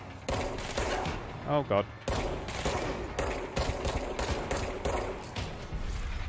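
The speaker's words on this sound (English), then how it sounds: "I've never fired a gun before." Rapid automatic gunfire in the video game Control, dense bursts of shots in quick succession with short breaks, loud and continuous, while someone briefly speaks over it.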